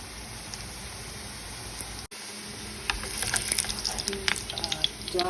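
Caribbean vegan fritters frying in hot oil in a pan give a soft, steady sizzle with crackles and pops that grow louder partway through.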